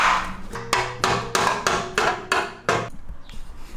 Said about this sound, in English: Because I cut the metal in a jagged way, I use a hammer to even it out